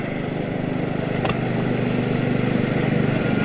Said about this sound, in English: get the gas engine running.